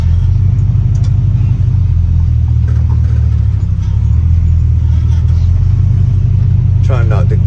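An old International pickup truck, likely late 1940s or early 1950s, rumbling steadily down a road with a deep, loud low engine drone from inside the cab, and someone talking over it.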